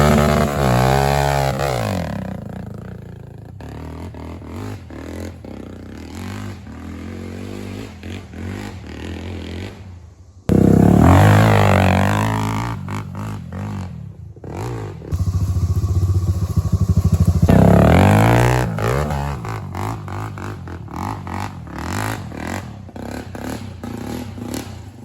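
A Honda 400EX ATV revs hard as it struggles out of mud to climb a hill, the engine rising and falling in loud bursts with clattering and thumps and brief lulls between the surges.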